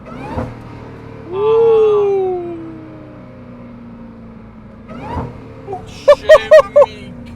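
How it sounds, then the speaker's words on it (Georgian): A Jeep Trackhawk's 707-horsepower engine revs up in a smooth swell, fades, then gives several quick sharp blips as the driver downshifts, heard from inside the vehicle. "ჩემი რა ხმა მოდის, აი, რა ხმა მოდის. Downshift-ი."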